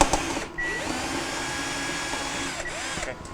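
Power driver whirring as it backs a screw out of the evaporator bracket inside a Sub-Zero refrigerator, a steady close motor whine with brief pauses and pitch shifts.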